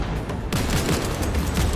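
Assault rifle fire in Cyberpunk 2077, a rapid burst of loud, close shots rattling off in quick succession for under two seconds.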